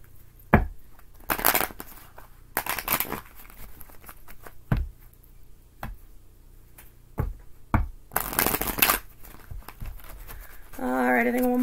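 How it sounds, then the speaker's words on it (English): A deck of tarot cards is shuffled in several sharp riffling bursts spread across the clip, close and crisp, with quiet handling noise between them. "I think one more good shuffle and I'm going to have it."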